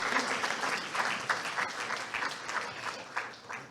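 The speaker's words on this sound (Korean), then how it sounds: "여러분 뜨거운 박수 보내주시기 바랍니다." Warm, steady applause from a sizable crowd at an anniversary ceremony, continuous and fairly loud throughout.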